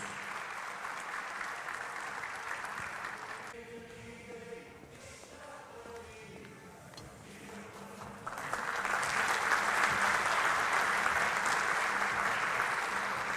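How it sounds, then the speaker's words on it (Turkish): Loud applause at a party ceremony where two mayors receive their badges, a dense crowd clapping that dips into a quieter murmur midway, then surges back stronger and fuller. "Kuvvetli bir alkış rica ediyoruz"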